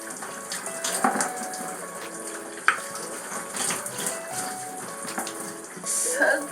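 Water runs steadily from a tap while someone bathes from head to toe at home, a continuous close splashing wash with a few louder gushes near the end.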